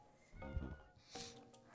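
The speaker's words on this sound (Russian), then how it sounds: "Толстый кот какой-то." A fat cat in a video game gives two drawn-out meows, fairly close and quiet, the second rising in pitch, with no talk over them.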